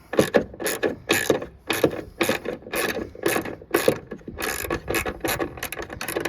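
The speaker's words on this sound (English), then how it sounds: "So I got my ratchet and extension with the half-inch socket over here." A ratchet with an extension and half-inch socket loosens a bolt on the trunk pull-down motor of a 1993 Cadillac Fleetwood Brougham, making repeated loud, close clicking bursts in an uneven back-and-forth rhythm, with no talking.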